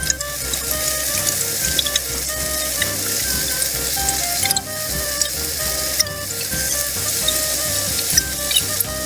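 Small pieces of Macedonian raznjici shish kabob sizzle on a grill, a loud, dense, continuous hiss and crackle heard up close, swelling slightly as pieces are turned.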